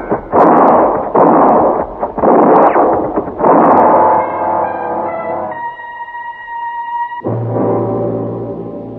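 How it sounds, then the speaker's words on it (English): Rifle gunfire in an old-time Western radio drama: a loud rapid series of booming shots close by, then fading echoes and a sustained tonal sound before more rumbling blasts return. "Rifle bullets began to bounce all around us"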